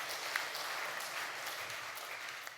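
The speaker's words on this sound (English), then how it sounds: "can we have a round of applause for that?" A UK parliamentary session audience at a Westminster biodiversity and cultural heritage meeting offers a brief, faint, steady patter of applause, heard from a distance without voices.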